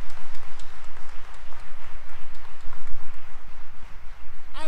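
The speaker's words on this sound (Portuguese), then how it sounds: "Pode aplaudir e glorificar o nome do Senhor." A church congregation claps together in loud, rhythmic applause that stays steady and close the whole way through, with no voices over it.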